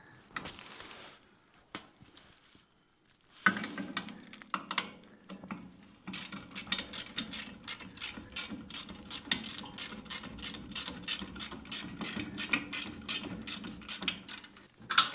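Rapid ratcheting clicks from a floor jack being pumped to lift a transmission into a rail dragster frame, a steady mechanical click-clack train building after a few scattered clanks and knocks, fairly close in a workshop.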